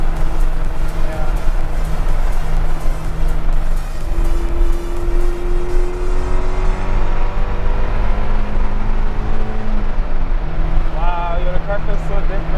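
A Toyota MR2 accelerates on the road, its engine drone rising steadily in pitch through the gears with a shift near the end, loud and constant from inside the cabin, with people talking over it.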